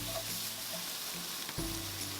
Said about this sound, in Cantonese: 切好咗嘅洋葱、紅葱頭同埋蒜頭放落去鑊入邊，繼續用中大火將佢爆一爆、炒一炒